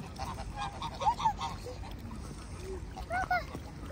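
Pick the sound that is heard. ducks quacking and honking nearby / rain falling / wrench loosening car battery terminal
ducks quacking and honking nearby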